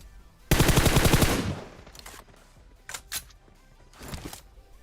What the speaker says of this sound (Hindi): खैर यहाँ पे गोलियां चल रही थी तो यार मैं देखने के लिए जाता हूँ।